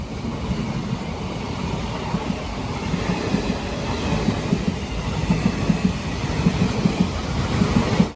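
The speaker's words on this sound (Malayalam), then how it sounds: "ഇവിടെ നിർത്തിയ സമയത്ത് ഒരു ഹൈ കപ്പാസിറ്റി പാർസൽ വാൻ പോകുന്നതാണ്." A high-capacity parcel van train rolls past on the Konkan Railway, a loud, steady rumble close at hand with rhythmic clickety-clack of wheels over rail joints throughout.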